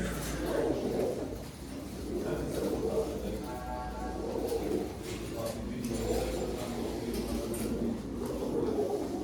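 Soft, low cooing from several caged pigeons carries on continuously, with a faint metallic rattle in the background.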